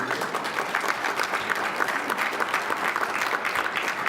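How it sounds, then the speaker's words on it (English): An audience at a winter meeting luncheon applauds steadily, a dense, even wash of clapping at moderate distance with no voices over it. "Give yourselves a round of applause."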